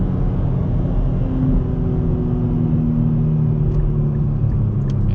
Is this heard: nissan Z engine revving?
yes